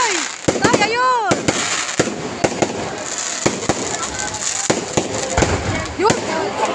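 New Year fireworks bursting outdoors in repeated sharp cracks and pops, with whistling rockets rising between them, while people talk and exclaim nearby.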